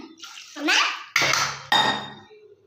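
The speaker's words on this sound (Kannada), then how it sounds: "ಸ್ವಲ್ಪ ನೀರು ಹಾಕ್ಕೊಳ್ಳೋಣ" Water is poured into a pan while cooking vegetable Maggi noodles, in a few short splashing spurts, with a light metallic clatter between them.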